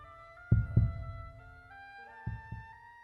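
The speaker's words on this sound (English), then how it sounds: "I can hear a heartbeat." Heartbeat sound effect in a Minecraft roleplay game, two paired low thumps, a pause, then another pair, over a soft sustained musical drone with no voices.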